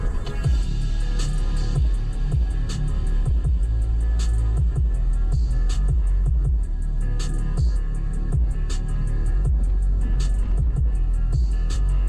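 A car driving with its windows down, carrying steady low road and wind rumble throughout and repeated soft thumps and clicks at irregular intervals.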